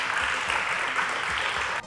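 A math contest audience claps in a brief, even burst that ends abruptly, with no talking.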